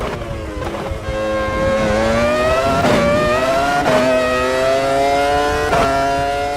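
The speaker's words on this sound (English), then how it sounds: "I have to be careful with all these over revving the engine situations because I don't want to damage it." A 2001 Ferrari Formula 1 V10 screams continuously at high revs in the Automobilista 2 racing game, its pitch rising and dipping with gear changes, loud and close with no talk over it.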